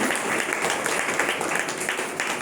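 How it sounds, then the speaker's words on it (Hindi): Audience applause for Pastor Celine at a church gathering, a steady, dense wash of clapping that holds evenly at moderate loudness throughout, with no pauses or voices over it. "पास्टर सेलिन के लिए जोर से ताली बजाओ"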